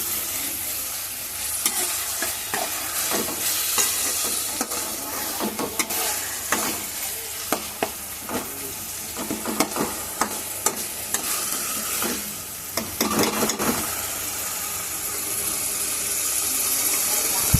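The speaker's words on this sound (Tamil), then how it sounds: "தக்காளி எல்லாமே போட்டு நல்லா வதக்கி விட்டுக்கிறேன்." Tomatoes and onions are sautéed in a pan, giving a continuous sizzle broken by repeated clinks and scrapes of a spoon stirring. The scrapes come in irregular bursts that cluster near the middle.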